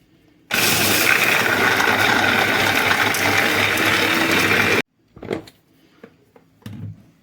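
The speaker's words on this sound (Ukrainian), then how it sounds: "І все перебиваю до однорідності" A loud, steady blender whirs continuously for about four seconds, blending berries into sorbet, then cuts off abruptly, followed by a few faint clinks and handling noises.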